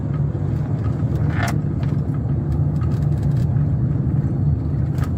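A car on a test drive gives a steady, loud interior road rumble and engine drone that holds constant throughout, with a few faint rattles and clicks on top.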